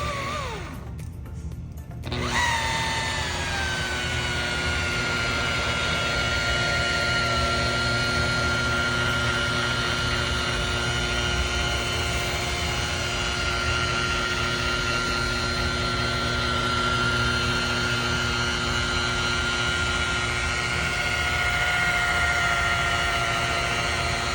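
A buffing machine polishing boat gel coat at its slowest speed, a steady close whirring drone with faint hum held for a long stretch after a brief start-up.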